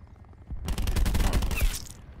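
Rapid automatic gunfire in Call of Duty Black Ops 4 multiplayer, a dense, loud burst lasting about a second before cutting off.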